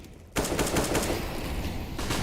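Rapid gunfire during a competitive Counter-Strike style ESEA shooter match, a steady dense burst of shots running almost continuously after a brief quiet start, loud and close.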